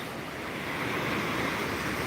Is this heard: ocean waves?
yes